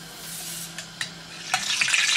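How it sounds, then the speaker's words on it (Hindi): Ice cream balls frying in hot oil give a steady sizzle with a few sharper pops and bursts, rising in intensity toward the end, close and with no talk. "और सिर्फ आपने इसको 15 सेकेंड के लिए फ्राई करना है"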